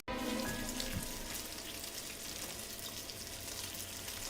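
Steady crackling sizzle of meat frying in a hot pan, continuous and fairly loud with no talking.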